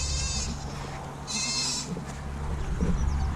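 Goats on a homestead bleat twice in short, nasal cries over a low steady hum, with faint background rustling between calls.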